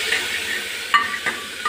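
Tomato paste sizzles and fries in hot tempering oil for matar paneer, with a soft continuous hiss and a few sharp clinks of a spoon stirring against the pan.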